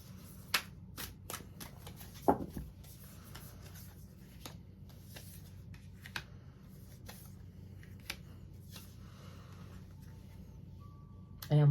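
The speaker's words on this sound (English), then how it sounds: "So I'm going to just do a couple more shuffles." A few crisp riffles of tarot cards being shuffled near the start, then quiet handling and soft rustling.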